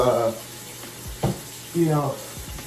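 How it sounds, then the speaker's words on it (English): Cold water runs from a tap to wet a towel, a steady soft hiss at close range, while someone talks over it. "I grab a towel with cold water and then just get it wet."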